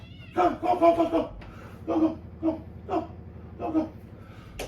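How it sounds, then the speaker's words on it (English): Two house cats fighting indoors, a string of loud yowls and meows in uneven bursts, close to the microphone over a low steady hum. "Sorry, I got 2 cats in here. They're fighting."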